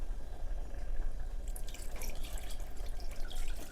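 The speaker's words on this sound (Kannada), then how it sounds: "ಹಾಗೆ ಇದನ್ನು ತೊಳೆದು ನೀರು ಕೂಡ ಅದಕ್ಕೆ ಹಾಕ್ತೀವಿ." Water splashes and trickles as a coconut chutney container is rinsed, starting faintly and growing into steady, close pouring and dripping about halfway through, with no voices.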